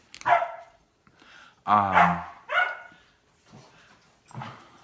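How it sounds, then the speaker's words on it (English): Several dogs bark close by indoors, a few loud separate barks and yips with short gaps between them, some sounding strained or whimpering. "These dogs."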